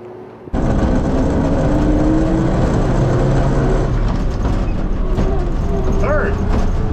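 An old two-dollar Jeep's engine pulls steadily in second gear, a loud, continuous low rumble and drone heard up close from inside the vehicle, with faint squeaks toward the end.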